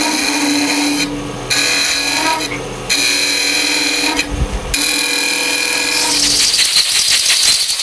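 A power tool trims about an eighth of an inch off a banksia pod for a cast ornament, making a loud, sustained grinding rasp broken by a few short pauses and rising into a harsher whine near the end.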